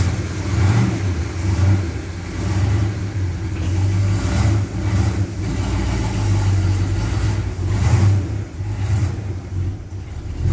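A 1970 Plymouth Duster rolls along the road on a test drive, its engine droning steadily with mild rises and falls in revs, loud and close from inside the car, with no talking.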